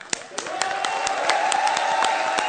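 An audience at a comedy show claps in a quick, fairly even rhythm, with sharp close claps over a sustained tone and a light crowd murmur, building slightly as it goes.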